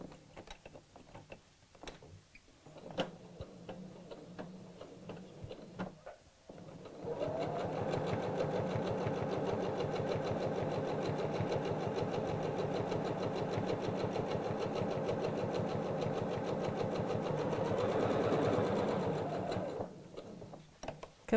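A sewing machine stitches around a curve on a fabric heart bag, running in a steady, close mechanical whir for about eleven seconds, with soft handling sounds of fabric and pins before and after.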